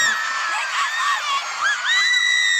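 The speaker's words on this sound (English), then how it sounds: "Screams." A dense crowd of fans shrieks at a performance, piercing high screams rising and falling in waves, loud and continuous with no clear speech.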